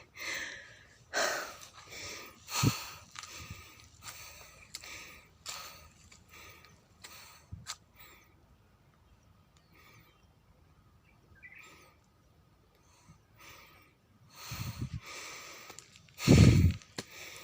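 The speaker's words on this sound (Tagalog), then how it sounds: "Hinihingal na ako." Heavy, rhythmic panting breaths from climbing stairs repeat close by, each a breathy puff, with a few louder gasps and snorts toward the end amid quiet surroundings.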